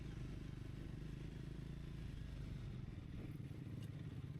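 A Triumph Scrambler 400X motorcycle rides an off-road trail, its engine a continuous low drone close by with faint clattering and scraping.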